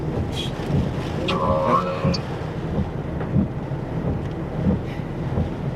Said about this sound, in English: A little light rain now.